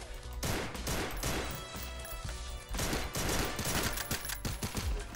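Gunfire from an M16 rifle in the video game Madness Interactive Reloaded comes as rapid, dense shot bursts over a constant loud game soundscape, in several clusters across a few seconds.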